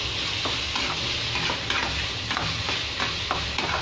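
A vegetable curry of brinjal, broad beans and tomato fries in a little oil in a pan, giving a steady close sizzle broken by repeated scraping stirs and no voices.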